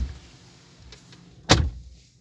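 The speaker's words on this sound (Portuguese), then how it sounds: "Deixa eu fechar a porta do lado aqui só pra vocês terem uma noção." The side door of a 2021 RAM 2500 pickup truck shuts indoors in a store with a single solid thump close by, preceded by faint handling noises.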